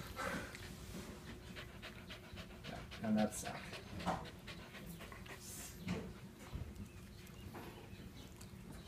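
A dog pants softly and rapidly nearby while people talk over it at close range, with a few faint knocks and movement sounds in the room.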